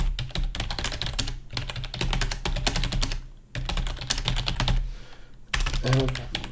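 Quick bursts of computer keyboard typing, close and clattery, separated by short pauses while someone writes a note during a C# coding session.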